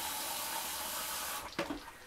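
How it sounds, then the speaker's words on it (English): Water pours from a tap into a pot of chopped onion for a meatloaf dinner, a steady broadband rush that stops abruptly, followed by a few brief splashes and drips. "Next, I'm going to pour some water over it."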